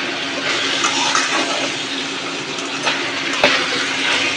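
Sliced bitter gourd fries in oil after its water has cooked off, a broad steady hissing sizzle with soft crackles and one sharp clack near the end, with no talking.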